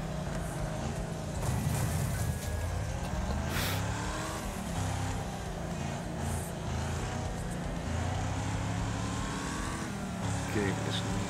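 Constant engine roar with crunching impacts and scraping metal from a chaotic Wreckfest demolition race on Xbox Series S, cars colliding and debris flying, loud and continuous throughout with speech over it.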